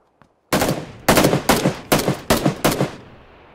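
Six loud, close gunshots ring out from a firearm in the video game PUBG Lite. They come in a quick, slightly uneven series after a brief silence, and a short reverberant tail follows them.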